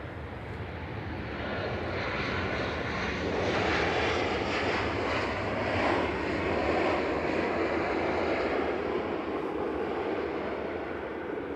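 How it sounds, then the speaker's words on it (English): A passenger jet arriving from Palma de Mallorca touches down firmly at Manchester Airport, its broad engine roar swelling and holding steady at close range, with no talk over it. "Right now, 1104 from Palma de Mallorca, EIEVN, touching down firmly."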